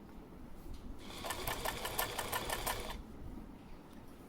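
Sewing machine stitching fabric, a quiet nearby run of rapid needle strokes lasting about two seconds, with soft handling noise before and after.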